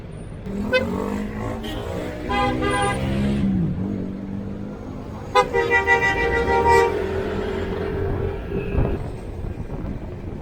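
Heavy early-morning road traffic near Fairview Terraces on Commonwealth Avenue, with loud car horns honking in long, repeated toots over the steady rumble of engines.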